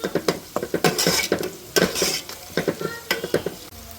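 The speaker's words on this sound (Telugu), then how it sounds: "ఉల్లిపాయ పచ్చిమిరపకాయలు కూడా చక్కగా వేసుకుని ఫ్రై చేసుకుంటున్నాను" Onion and green chillies frying in oil while being stirred: loud, rhythmic scraping and clinking of a spatula against the pan over a steady sizzle, close and continuous.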